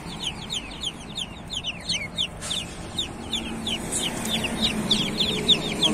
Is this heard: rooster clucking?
yes